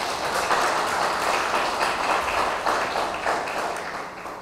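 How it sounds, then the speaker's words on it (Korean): Audience at a Korean consumer cooperative forum breaks into sustained applause for a former agriculture minister's talk, a dense steady wash of many hands clapping that fades slightly toward the end. "이때는 박수를 한번 쳐야지."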